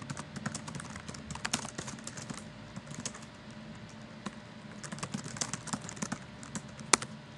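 Fingers type on a computer keyboard, a close, quick run of irregular key clicks with brief pauses and a sharper tap near the end, heard alone without talk.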